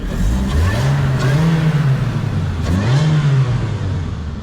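A Lotus engine revs after a cold start, its supercharger whining as the pitch rises and falls twice, loud and close throughout with no talk.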